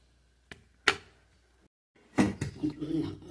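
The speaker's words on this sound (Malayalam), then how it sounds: "നമ്മളിനി മൂടി വെക്കുക." A lid set onto a pot of chicken curry with ash gourd in a home kitchen, two short clanks a moment apart, then softer rattling and handling noises close by.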